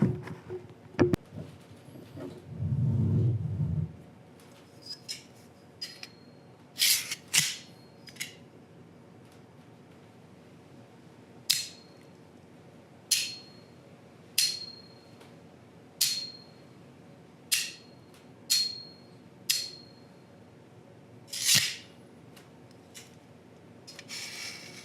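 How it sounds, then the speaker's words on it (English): Kitchen tongs standing in for a cutlass make a series of about a dozen sharp metallic clinks and scrapes, spaced every second or two, with a brief low rumble near the start. "For the cutlass, I'm just going to use some tongs, kitchen tongs."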